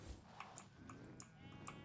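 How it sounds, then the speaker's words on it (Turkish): Several short sheep bleats from Forza Horizon 4 repeat over a steady game background ambience, each call clear and moderately loud, with no talking. "Koyunlar var. Aa koyunlara gidip görek."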